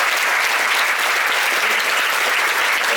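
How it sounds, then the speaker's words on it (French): An audience at a post-screening film discussion in Paris applauds steadily, with dense, even clapping filling the room without pause from start to finish. "Vous pouvez applaudir François."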